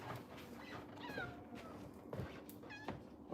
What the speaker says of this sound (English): I did hear the cat.